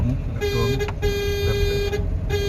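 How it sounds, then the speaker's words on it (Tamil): A car horn sounds in a sustained steady toot, briefly interrupted, over a low rumbling engine, during an off-road driving lesson. "ஹார்ன் அடிங்க"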